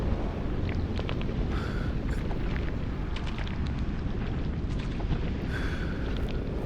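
An explosion in the video game Deadly Premonition, heard as a sustained, loud, rumbling roar with crackling debris and fiery hiss running throughout.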